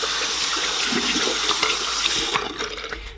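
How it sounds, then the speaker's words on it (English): Tap water running steadily into a sink while hands are washed, a close, continuous splashing hiss that eases slightly toward the end. "basically just like I would wash my hands."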